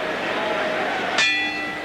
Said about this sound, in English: And the bell will end the first round in just 10 seconds here in Landover